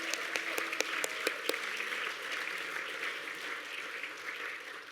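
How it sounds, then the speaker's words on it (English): Applause from an audience honouring Auntie Pam at the Victorian Aboriginal Honour Roll ceremony, opening with several sharp close claps, then settling into steady, sustained clapping throughout. "Big round of applause for Auntie Pam."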